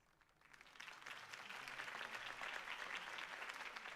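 Crowd applause follows a campaign speech in Batman: The Telltale Series, swelling from quiet within the first second into steady, dense clapping that carries on to the end.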